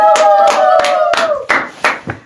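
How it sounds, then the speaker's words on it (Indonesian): A small audience claps by hand in a short burst of distinct, sharp claps that thin out and fade within a couple of seconds, heard close and alongside a lingering sung or spoken tone early on. "Tepuk tangan lagi."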